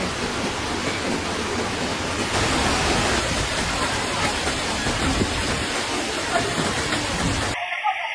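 Flood water from an overflowing river in Barus, Tapanuli, heard at night as a loud, continuous rushing roar that goes on without a break and then cuts off abruptly at the end.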